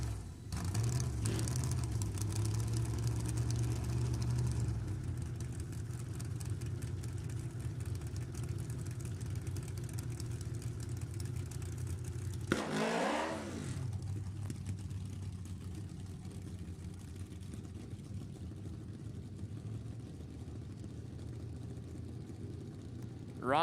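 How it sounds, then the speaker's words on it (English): A homemade crotch rocket motorcycle engine at a drag race event, idling with a steady low drone, then one sharp rev in the middle before settling back to idle, heard from a short distance with background crowd noise. "That is a homemade crotch rocket,"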